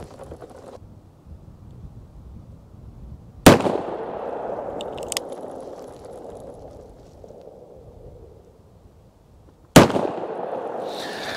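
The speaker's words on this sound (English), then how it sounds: "So let's just send a couple rounds through it." Two sharp, loud gunshots from a Henry Big Boy revolver loaded with 158-grain Norma FMJ rounds, fired outdoors at shaving cream cans, each crack followed by a ringing tail, several seconds apart amid light wind noise.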